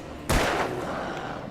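A single loud gunshot fired in the video game Alan Wake: one sharp, close blast with a brief ringing tail, then a steady low background.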